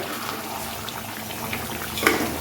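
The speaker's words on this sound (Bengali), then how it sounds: "এদিকে দেখো আমাদের এদিকে চিকেনটাও কষছে, চিকেনের জল ছেড়েছে," Chicken simmers in a pan in its own released juices, giving a steady soft bubbling and light sizzle that runs continuously, with a slightly louder pop near the end.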